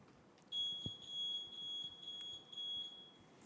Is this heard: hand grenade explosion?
no